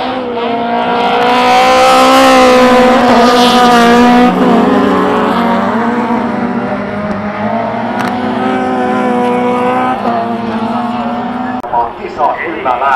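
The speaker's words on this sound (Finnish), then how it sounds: "Kisa kyllä lähdetään ja Karttunen pakenee välittömästi" Sambacross race cars start a race, their engines roaring together at high revs and holding a loud sustained drone, while a commentator talks excitedly throughout.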